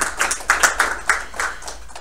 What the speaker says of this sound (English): another round of applause for everybody who is hardworking